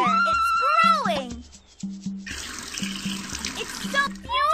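Water pours onto a plant in the Dora the Explorer PC game La Casa de Dora, a short splashing, trickling stream rising partway through, alongside bright game chimes and a voice talking before and after.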